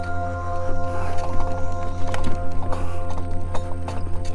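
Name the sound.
horse hooves clip-clopping on a state park trail ride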